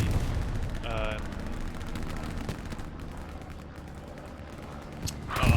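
Gunfire and artillery rumble in the World War II shooter Hell Let Loose, a continuous low battlefield roar with scattered sharp reports, and a voice speaking over it.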